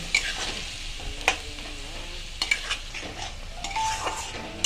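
Onion paste frying in a pan for an egg omelette curry, with a soft steady sizzle under intermittent scrapes and taps of a spoon stirring against the pan.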